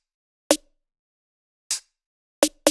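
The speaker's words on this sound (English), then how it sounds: "all these additional percussive elements that I have here in these channels" Isolated extra percussion from a house beat made in Ableton Live: four short, dry electronic hits, the first alone, a softer airy shaker-like hit near the middle, then two quick hits close together at the end, with no talking.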